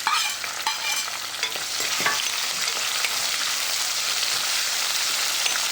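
Garlic, ginger and green chillies fry in hot oil for dal, giving a continuous loud sizzle with occasional stirring scrapes, close up and without talk.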